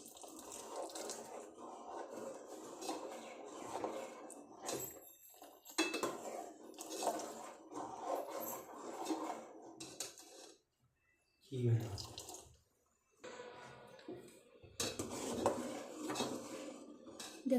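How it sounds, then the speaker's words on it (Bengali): A mixture is poured little by little into a pan and stirred, with a metal utensil clinking and scraping against the pan in uneven bursts broken by short pauses. "এখন অল্প অল্প করে ঢেলে নেব আর নাড়তে থাকবো"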